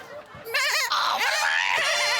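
A performer's voice imitates a goat bleating, a loud, quavering, nasal bleat sustained over about two seconds after a brief lead-in.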